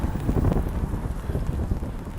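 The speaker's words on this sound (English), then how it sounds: "this is typical St. Petersburg weather. Cold, windy, and rainy." Cold, wet wind gusts buffet the microphone on a rainy street in St. Petersburg, a steady low rumbling roar with pattering rain underneath.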